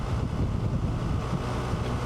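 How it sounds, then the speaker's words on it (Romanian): Wind beats against a motorcycle rider's helmet from the side with the visor removed, making a dense, continuous low roar and buffeting that fills the clip at a steady loudness. "Acum chiar mă bate vântul doar din lateral și atât."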